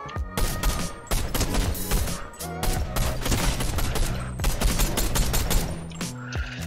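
Rapid bursts of gunfire from another player in Fortnite, loud repeated shots coming in quick clusters with short pauses, continuing throughout.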